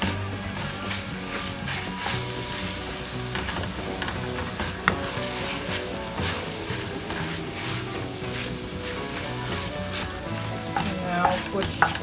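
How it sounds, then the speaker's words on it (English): Onion and garlic fry alongside browned ground meat for chilli con carne, a steady close sizzle with scraping stirs and clicks of a spoon against the pan. "So now that the meat is brown, I'm going to draw in the onion garlic."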